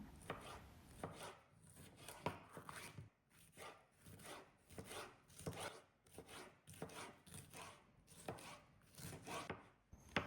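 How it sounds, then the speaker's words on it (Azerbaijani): A knife slices a colored bell pepper, halved, into thin strips on a board: a fast, rhythmic run of soft, close chopping strokes in short bursts with brief pauses, faint and with no voices. "Biberi 2 hissəyə ayırıb nazik dilimlərə doğrayıram"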